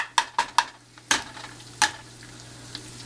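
Fish and pasta sauce cooking in a pan while being stirred, with several distinct clinks of a utensil against the pan over a low steady simmer, close and fairly loud, with no talking.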